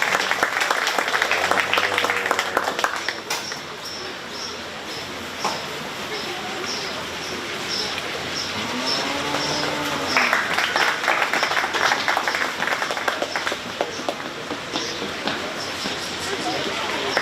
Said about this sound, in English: let's give these exhibitors a really nice round of applause